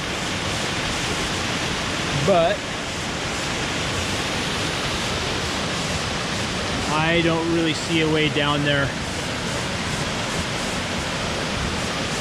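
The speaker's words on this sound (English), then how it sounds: "There's a clear shot of the waterfall" Steady, broad roar of a waterfall on Vancouver Island fills the whole stretch at constant loudness, with someone talking briefly over it near the start and again in the middle.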